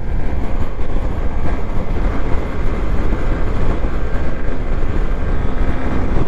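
Large trucks pass on an expressway, heard from a 125cc motorcycle as a loud, continuous roar of engine, tire and wind noise that stays dense and steady throughout.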